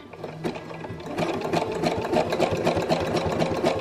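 A sewing machine runs steadily, stitching elastic onto bra fabric, its fast even needle chatter close and loud throughout with no talk.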